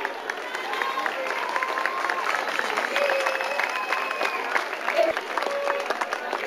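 Audience applause for a Venice municipal sports official at a school rowing regatta event, a steady broad wash of clapping mixed with crowd murmur and voices, moderately loud throughout.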